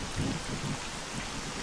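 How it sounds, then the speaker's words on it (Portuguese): Steady heavy rain in the video game STALKER hisses throughout, a dense wash of downpour with faint low rumbles underneath. "tá chovendo muito"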